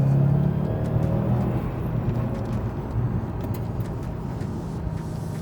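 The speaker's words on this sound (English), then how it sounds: "That is the boxer engine stuffed into the snout of a Subaru WRX STI." A Subaru WRX STI S209 boxer engine idles nearby with a steady, deep low rumble and a faint whirring layer, holding an even level throughout with no talking.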